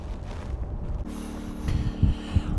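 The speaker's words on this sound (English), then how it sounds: "Let me get out of this wind." Wind buffets a microphone outdoors near sunset, a steady low rumble with stronger gusts thumping in toward the end.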